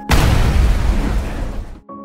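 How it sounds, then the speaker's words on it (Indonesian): A loud film explosion goes off as a door is opened, a sudden booming blast that fills the whole clip with dense rumbling noise before cutting abruptly to a quiet tone. "ketika hendak membuka pintu, tiba-tiba ledakan terjadi"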